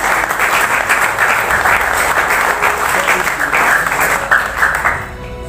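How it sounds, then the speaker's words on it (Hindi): A crowd at an indoor team gathering in India claps in a loud, close, dense round of applause. It holds steady, then quickly fades out at the very end. "प्रकाश भार्गवी जी और भाग्यवंत चौहान जी, ये दोनों के भी तालियां।"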